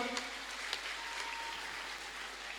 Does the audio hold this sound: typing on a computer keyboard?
no